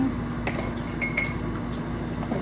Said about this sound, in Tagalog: So, magtitimpla lang ako ng Milo guys.